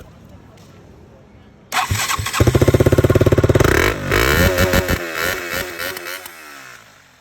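A KTM Duke 200 motorcycle engine cranks and fires up roadside, settling into a loud, rough idle with a brief rev, close to the microphone after a quiet stretch of street ambience.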